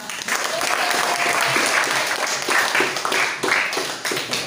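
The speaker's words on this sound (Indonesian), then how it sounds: "Maka tepuk tangan dulu kita." Students in a high school classroom give a round of applause, a loud, continuous patter of many hands clapping together close by for several seconds.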